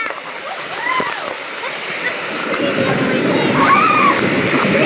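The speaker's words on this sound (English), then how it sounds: "Look at that big waterfall." A big waterfall splashes and rushes as a boat cruises past, with broadband water roar building steadily throughout and people chattering and calling out over it.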